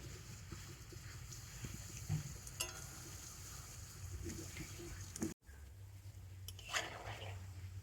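Sweets frying in oil over a low flame in a wok that is swirled by hand rather than stirred with a spatula. A faint, steady hiss with a few soft knocks and clinks, briefly cutting out before resuming.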